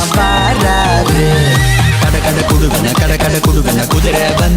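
Horse neighing loudly with a long whinny, accompanied by rhythmic galloping hoofbeats in steady, evenly spaced strikes, close and prominent throughout.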